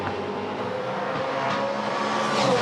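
A V8 Supercar at the 2015 Sydney 500 races past with a broken exhaust header, its engine a loud, steady drone that swells slightly toward the end, heard alone without talk.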